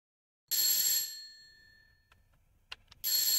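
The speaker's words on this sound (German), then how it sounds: "seit wann gibt's hier eine Klingel im Spiel?" A doorbell chimes in the House Flipper video game: a loud, bright bell tone that rings out and decays, a few small clicks, then the chime starts again.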